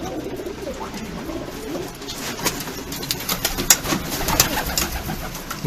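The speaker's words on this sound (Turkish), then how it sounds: "Bunlar da Macar güvercinlerinden arkadaşlar." Hungarian pigeons coo softly in a coop, with repeated low murmuring calls and scattered rustling and clicks that grow busier toward the end.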